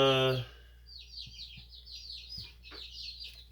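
Baby birds under a heat lamp give soft, repeated high chirps in quick irregular bursts, faint and close, after a brief louder sound at the start.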